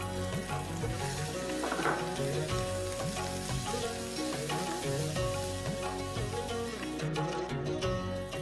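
Chopped onion and tomato fry with a steady, dense sizzle in a pan over a spiced oil tempering with green chillies, continuous and fairly loud throughout, no voices.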